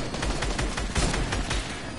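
An assault rifle fires in a video game, a close, loud burst of rapid shots in a quick steady rhythm that runs unbroken for about two seconds.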